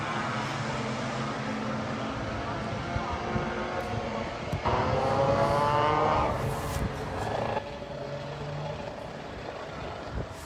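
Motorcycles in a stock class race at Lydden Hill, a steady loud engine roar from a pack of bikes, swelling briefly midway as one passes close, then settling back to a sustained drone.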